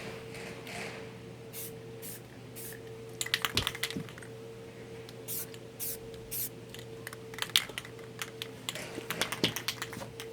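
Aerosol spray coating a pocket knife clip during an EDC knife mod, heard as faint short hissy bursts and clicks scattered over a steady low hum, close and quiet with no talk.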